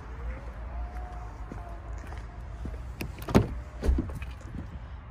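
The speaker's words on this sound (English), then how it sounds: "this will close and lock the four doors." A 2019 Mercedes GLS 450 gives a soft motorized whir followed by a couple of sharp thuds and clicks as its doors close and lock on their own, over low background hum.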